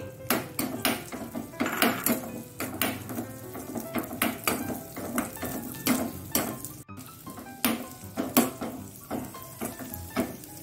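Raisins frying in a pan after cashews, with a spoon stirring: steady close clatter of metal scraping and knocking the pan over a faint sizzle, irregular taps continuing throughout with no talk.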